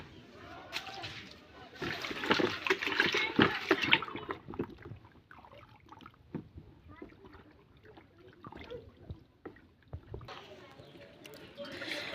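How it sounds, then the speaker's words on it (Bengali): Mint leaves and lemons being washed by hand in a bucket of water, with soft irregular sloshing and small splashes, fairly quiet and close. "বালতির জলে পুদিনা পাতা ও লেবুগুলি দিয়ে ভালো করে ধুয়ে নিলাম।"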